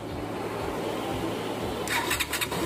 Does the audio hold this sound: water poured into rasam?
no